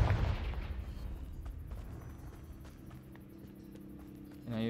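A Confringo fire spell from Hogwarts Legacy lets off a loud, booming blast right at the start, then fades into a low rumbling tail with scattered crackles and a quieter game background.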